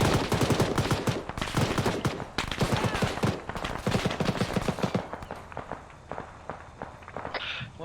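Rapid bursts of gunfire in the Arma 3 military simulation game: dense automatic fire and single shots, loud and close, thinning into scattered shots and a distant crackle toward the end.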